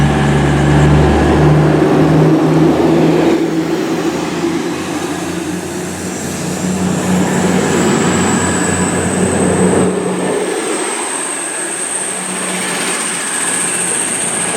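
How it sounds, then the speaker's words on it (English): East Midlands Class 222 Meridian diesel train passing through Chesterfield toward London St Pancras, a loud continuous engine roar and rail rumble with a thin high whine that fades slightly as it goes by, no voices. "Goes the Class 222 Meridian East Midlands train service to London St Pancras"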